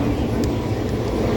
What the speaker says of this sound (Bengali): ট্রেনটা দাঁড়াবে না, স্পিডে বেরিয়ে যাচ্ছে।